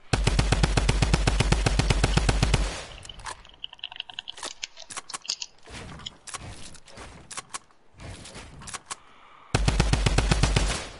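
Video game gunfire: loud rapid automatic bursts open and close the stretch, with scattered single shots and clicks in between.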